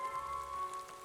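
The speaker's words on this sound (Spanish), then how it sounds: "Una llovizna helada y constante no había parado de caer hacía semanas." Steady freezing drizzle falls in a continuous soft hiss at low level, with no voices.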